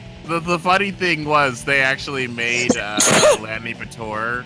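A single sharp sneeze bursts out near the end of someone's casual chatter, loud and close, cutting into the flow of speech.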